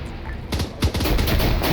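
Grenade machine gun firing in ArmA 3, a quiet lead-in followed by rapid repeated heavy thumping reports and booms that grow dense and loud toward the end.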